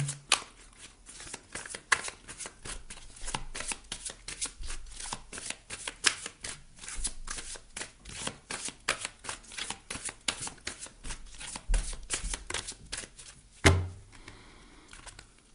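Oracle cards ("cartes lumière") being shuffled by hand, a steady run of crisp riffling flicks close up with a louder knock near the end, no talking.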